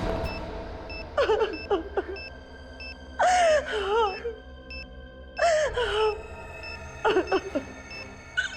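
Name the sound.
person crying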